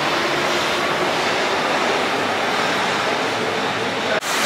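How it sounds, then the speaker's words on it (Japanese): A Paris metro train pulls into a station with a steady, loud broadband rush and rumble that fills the whole clip, and a sharp clunk comes near the end. "地下鉄来た。"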